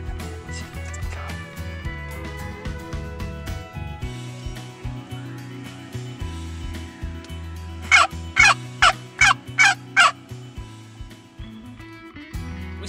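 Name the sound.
wild turkeys gobbling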